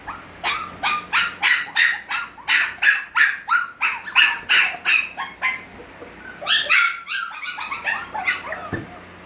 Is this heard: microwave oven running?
no